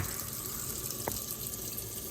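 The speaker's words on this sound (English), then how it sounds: "just run water over it and I just, you know, scrub it out like that" Tap water runs steadily over a Roomba J7+ mop pad at a sink, a continuous close splashing gush with a brief scrubbing touch midway.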